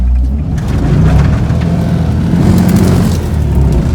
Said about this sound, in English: quick burnout time